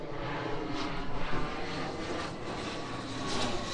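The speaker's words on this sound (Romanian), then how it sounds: "Sunt foarte multe avioane." Airplanes pass over a beach, a loud sustained engine roar with a broad rushing wash that swells and fades slightly, no voices over it.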